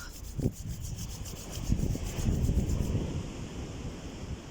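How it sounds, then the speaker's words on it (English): Two hands rub briskly together in a close, continuous papery swish with a muffled thump near the start, alone with no speech. "give your hands a good rub"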